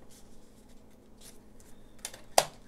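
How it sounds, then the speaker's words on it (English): Scissors snip through a Dollar Tree paper file folder, a short sharp cut near the end after a few faint rustles, close and fairly quiet with no talking. "We're going to cut this down to"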